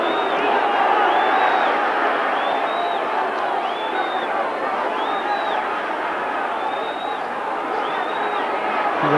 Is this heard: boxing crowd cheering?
yes